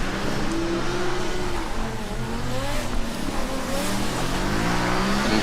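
Several combustion-engined race cars lapping a Formula Student autocross track, engines droning and revving steadily throughout, with rising and falling pitch as they accelerate past at mid distance.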